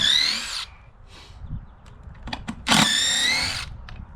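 A hammer drill running a core bit through a porcelain paver whines in two loud bursts separated by a pause with a few clicks and knocks, heard up close.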